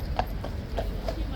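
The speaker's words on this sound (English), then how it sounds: "The horse is called Quixote" Horse hooves clip-clop in a steady rhythm of four evenly spaced strikes from a single horse visiting with the Guards in Westminster, heard over a low background rumble.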